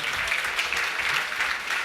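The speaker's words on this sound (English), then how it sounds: "Could we clap for them?" An audience claps steadily in a sustained round of applause at a research presentation event, with dense, even clapping throughout.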